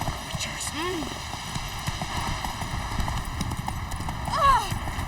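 Roach, a horse in The Witcher 3, galloping with a steady clip-clop of hooves under a game soundtrack, with a short whinny near the end.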